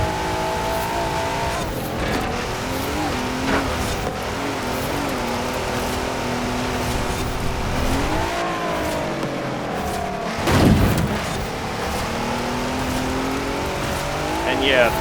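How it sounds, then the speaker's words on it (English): A small Mercedes in the Forza Horizon 4 racing game accelerating hard, its engine revving loudly and climbing through gears with brief tire squeal, with a player talking over the continuous engine roar. "that tiny Mercedes is really fast from 0 to 100, but it doesn't have any grip and it's bouncing all over the place"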